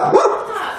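A dog gives a single close, loud bark that trails into a brief whimpering yip, with nothing else around it.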